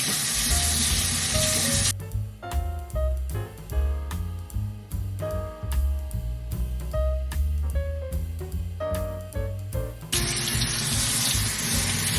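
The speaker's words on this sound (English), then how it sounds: "I like to rinse everything first, let it dry," Tap water runs into a kitchen sink while vegetables are rinsed, a loud steady rush at the start and end with a calmer stretch of tonal clatter between.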